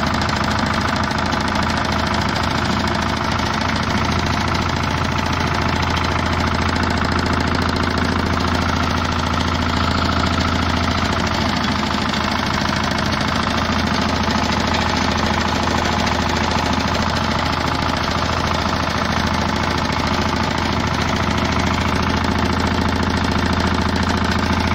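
Scout walk-behind tractor engine running steadily after clutch basket assembly, a loud, continuous close-up mechanical drone with a rough knocking undertone and vibration, alone without talk for the whole stretch.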